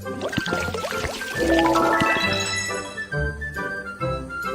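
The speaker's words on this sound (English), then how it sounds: "Let's water the plant." Watering a plant in the Baby Panda's Math Adventure video game: a bright cartoon pouring and filling sound with rising tinkling tones over a steady liquid gurgle, loud and clear, with no talking.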